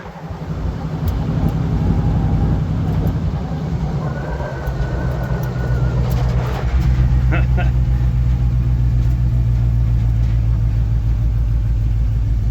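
A 1954 Chevy 3100 truck engine with a GM transmission runs in second gear, a steady low rumbling drone with rising engine tone partway through, while people talk over it.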